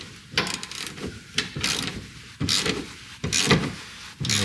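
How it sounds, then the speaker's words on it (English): Ratchet tightening the bolts on a Ford Raptor swing-case bracket: close, rhythmic bursts of mechanical clicking, repeating roughly every second with short pauses between strokes, no talking. "Just run your bolts down nice and tight, but not crazy over tight."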